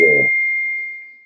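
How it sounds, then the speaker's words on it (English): A mobile phone gives off a single steady electronic tone that rings on alone for about a second as a voice cuts off at the start. "excuse me, that's my phone."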